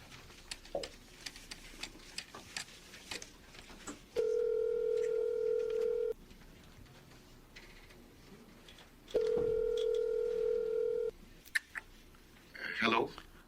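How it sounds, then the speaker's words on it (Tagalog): Telephone call placed in a Filipino drama scene: two long steady ringback tones separated by a pause, with scattered clicks and faint background sounds around them. "Tatawagan ko si Marlon."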